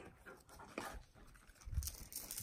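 Dog panting close by with short whimpers between the breaths, fairly faint, heard on its own.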